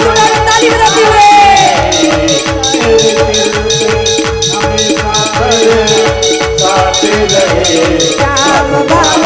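An audience at a live devotional katha claps in a steady, fast rhythm with both hands raised. The clapping runs along with loud bhajan singing and music.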